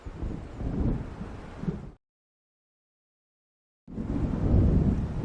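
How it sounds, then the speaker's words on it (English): A deep rolling rumble of thunder from an approaching storm over a lakeside town in Alan Wake Remastered, heard loud and close, cutting off abruptly, then returning with steady stormy roar after a few seconds of silence. "It seems there's a storm coming."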